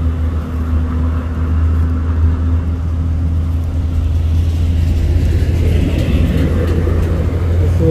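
A heavy tanker truck rumbles past close by, its deep engine drone steady before a rush of road noise builds toward the end.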